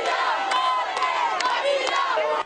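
A large crowd cheers and shouts continuously for Joseph Kabila, the Congolese head of state, during a provincial walkabout among the population, with dense overlapping voices and occasional sharper yells sustained throughout before cutting off abruptly.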